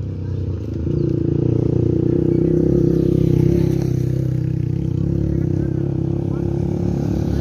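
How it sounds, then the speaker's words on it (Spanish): A motorcycle engine swells in and drones past nearby, a steady rumbling buzz that lingers without much fading. "Viene otro moto."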